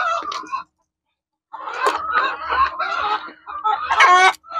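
Free-range country chickens on a farm of about 600 birds, several hens clucking and cackling close by in short broken bursts, one rising squawk near the end, with no talk over them.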